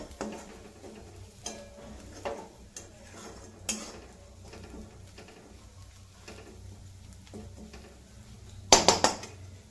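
A spatula scrapes and taps as grated coconut is stirred and roasted in a pan, with sparse clinks spread out and a sharp cluster of metallic clatters near the end.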